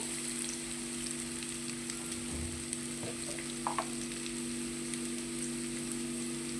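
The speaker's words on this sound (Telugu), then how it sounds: "ఆలుని ఫ్రై చేసేసుకున్నాము" Medium-sized potato pieces frying in a pan, a soft, fairly quiet sizzle running steadily throughout, with a few faint clicks and scrapes against the pan and a low electrical hum beneath.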